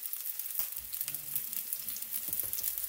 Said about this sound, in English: we're gonna go ahead and saute some onions